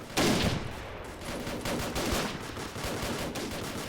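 Rapid bursts of gunfire and scattered explosive shots from a World War II strategy game with the Totaler Krieg mod, including covering fire from a Churchill tank, loud and continuous with dense overlapping volleys.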